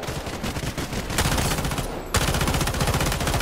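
Sustained automatic gunfire rattles in rapid bursts behind the player in the extraction shooter Delta Force: Hawk Ops, loud and continuous with a brief lull before a fresh volley.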